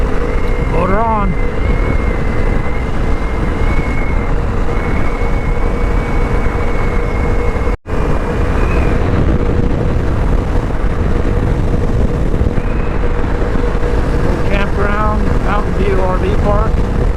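Motorcycle ridden on a hazy, windy day toward Dell City, Texas: a steady engine drone sits low beneath heavy, continuous wind buffeting, with a brief dropout partway through.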